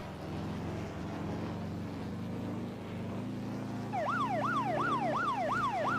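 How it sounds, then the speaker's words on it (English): A low engine drone hums steadily until a wailing siren rises and falls in regular sweeps, loud against the rumble, in the video game Rigs of Rods at a derby car race, Slinger Speedway. "Hearing sirens."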